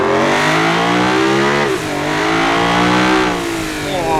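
A supercar engine in the game Automation revs hard on a test track, a loud continuous roar climbing through the gears with a brief dip at a shift, no talk over it.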